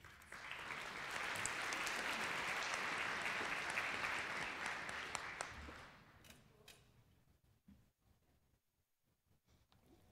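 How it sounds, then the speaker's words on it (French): An audience at a hospital forum applauds for about six seconds, then the clapping fades to scattered claps and a quiet room. "Mesdames, on vous applaudit et on vous accueille."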